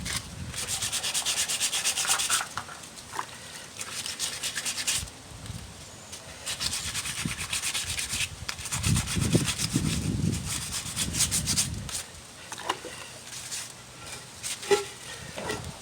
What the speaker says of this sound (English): sanding everything down with this 240. Make sure getting all the cracks inside.